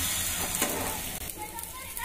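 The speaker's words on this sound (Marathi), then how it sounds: "आता हे जे आपण इडली थोडीशी तेलामध्ये जी फ्राय केली होती ती पण आपल्याला ह्याच्यात अशी वर खाली करून घ्यायची आहे" Fried idli pieces being tossed and turned in spiced masala in a hot oiled pan, a steady soft sizzle with light scraping and stirring throughout.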